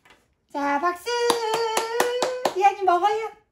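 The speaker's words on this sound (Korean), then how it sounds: "자, 박수!" About six sharp hand claps in a steady run during a small home celebration of a baby's 500th day, heard beneath a sustained sung voice, with singing before and after.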